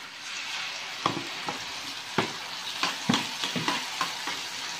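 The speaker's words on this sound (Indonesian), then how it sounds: "kita tuangkan sausnya" Sauce poured into a hot pan over browning food sizzles loudly and steadily, with a few sharp stirring clatters and crackles scattered through, close up with no talking.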